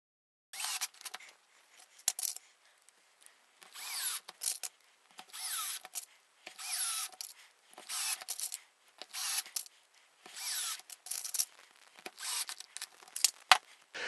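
Power drill driving screws into MDF, repeated short whirring bursts with brief gaps between them, close and fairly quiet with no voices.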